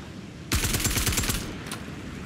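A loud, rapid burst of automatic gunfire in Star Citizen, about a second of tightly spaced shots that cuts off abruptly, followed by a faint trailing click.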